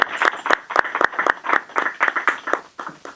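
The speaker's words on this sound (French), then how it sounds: "Je vous demande de les applaudir." Applause from an audience at a hotel certification ceremony, honoring the hotel staff: a handful of sharp, steady hand claps in a loose rhythm, moderately loud and close, with no voices over them.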